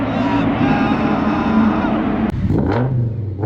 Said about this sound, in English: Oh, my Audi S6. This probably sounds insane.